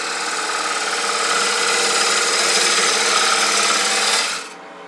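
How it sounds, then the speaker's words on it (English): A wood gouge cuts a cove into a spinning wooden napkin holder on a lathe, giving a steady, loud, close scraping rasp that holds for about four seconds and then drops away. "I want to come back to the bowl gouge"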